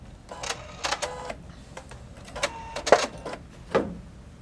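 A Pfaff Creative 3.0 sewing machine works through a decorative quilting-style lock stitch, giving short separated mechanical bursts and clicks with small pauses between them, close and fairly quiet.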